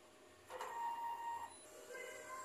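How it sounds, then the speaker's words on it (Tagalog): A DTF printer running a head clean and nozzle test, giving a soft mechanical whir with a sustained tonal motor whine in the middle, fairly quiet and with no voices. "Punasan ng wiper pagkatapos mag-head clean. Ito na rin po yung cupping. Nozzle test."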